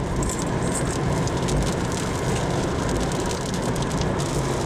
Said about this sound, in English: We rode into some rain.